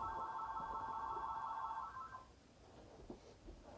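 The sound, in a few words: telephone ringing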